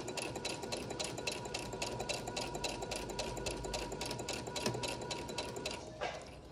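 A sewing machine stitches a homemade cloth face mask in a steady, rapid mechanical rattle that runs loud and close without pause, then slows and stops near the end.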